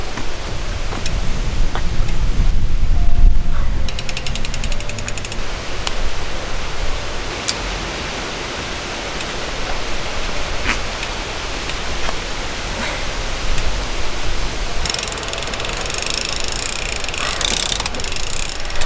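A ratchet clicks and whirs while a new crank arm is worked on a mountain bike. The mechanical ticking goes on through a long stretch of steady broadband hiss, close and fairly loud, with no talking.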